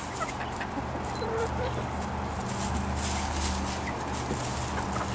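Young adolescent chickens in a backyard brooder setup cluck and murmur softly and continuously alongside a steady background hum, with a faint voice now and then.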